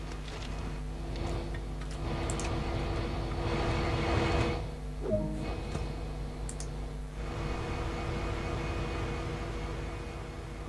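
A locomotive on a turntable in Train Sim World, a steady low engine drone and hum with faint mechanical rattles, continuous and moderately loud, a brief clunk midway.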